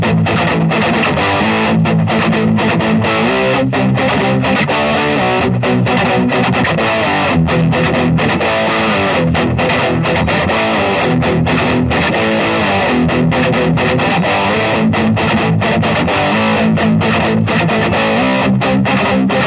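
A 2012 Gibson Les Paul signature model with signature pickups plays a heavily distorted riff, loud chugging palm-muted chords with rhythmic stops and effects, alone without talk.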